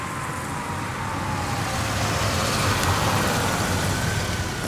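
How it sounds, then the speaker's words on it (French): A car engine hums as a car pulls into the parking lot of a fort, a steady broadband motor rumble growing slightly louder as it approaches, with no talk. "Un bruit de moteur se fit alors entendre et une voiture arriva sur le parking du fort."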